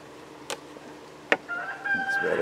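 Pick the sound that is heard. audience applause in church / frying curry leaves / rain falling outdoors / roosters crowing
roosters crowing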